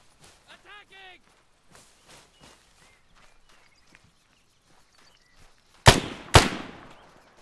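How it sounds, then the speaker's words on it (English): Two sharp, loud MX rifle shots ring out close together in an Arma 3 firefight, preceded by quieter footsteps and shuffling. "that's the MX rifle in play"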